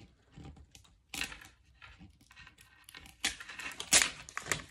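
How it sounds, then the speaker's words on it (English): Packaging tape slowly peeled back from paper by hand in an art image-transfer demo: intermittent crinkly tearing bursts, some louder near the end, close and without talk. "take your fingers and you're going to carefully start peeling back from one of the corners"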